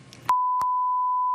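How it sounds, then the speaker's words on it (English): A TV talk show censor bleep cuts off a brief murmur of voice and becomes a loud, steady, pure tone that holds unbroken for over a second. "what everybody at home just heard was beep, beep, beep"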